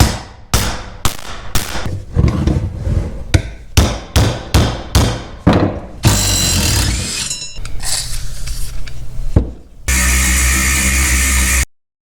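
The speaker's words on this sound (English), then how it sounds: "now it's just wrenches and hammers and blowtorches." Repeated hammer blows and wrenching on rusted Polaris Ranger side-by-side parts: about a dozen sharp, loud metallic strikes in quick succession, then grinding scrapes and a steady hiss like a blowtorch, with no talk.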